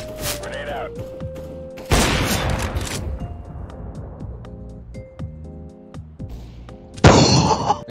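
Grenade blast and gunfire in the video game CS:GO: a loud burst of explosion and shots, metallic clangs and pings, then another sharp blast near the end, with players talking over it.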